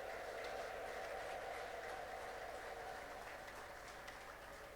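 Steady, dense clapping and ululation from a church congregation during a Sunday morning service, filling the room at an even level throughout without pause.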